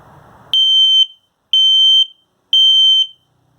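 An LP gas and carbon monoxide detector in a 2020 Cruiser Aire 29SI RV sounds its self-test: three loud, piercing, evenly spaced beeps, each about half a second long, after a brief quiet click.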